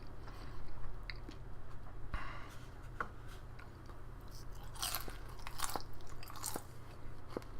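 Whole fried prawns are bitten and chewed close up: soft crunches and wet mastication in an irregular rhythm over a quiet background hum, with no talking.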